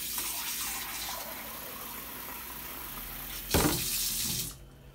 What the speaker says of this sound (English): So I'm just going to put a couple of bowls worth of water in there.